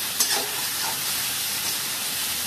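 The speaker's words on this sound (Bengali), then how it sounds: "ঢেঁড়সগুলো এই দেখো একটু ভাজা হতে শুরু করেছে" Okra fries in a wok, a steady close sizzle and crackle of hot oil with a faint stir or scrape near the start, no voices.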